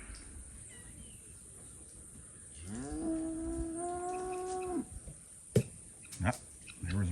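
A single cow lets out a long, clear moo in a bottom pasture on a farm, a sustained call of about two seconds over quiet outdoor background, followed by a few faint knocks.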